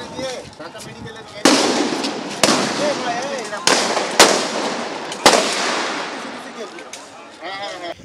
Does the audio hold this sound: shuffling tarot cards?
no